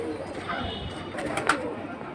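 Pigeons coo softly at close range, a low throaty burble rising once over a murmuring background at a pigeon-selling spot, without distinct speech.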